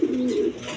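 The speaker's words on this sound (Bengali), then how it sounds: "এখানে এক পেয়ার কোয়ালিটি সম্পন্ন গিরিবাজ কবুতর আছে, হাই ফ্লাইং গিরিবাজ কবুতর" A Giribaz high-flying pigeon gives a short, low throaty coo, close and alone, lasting under a second.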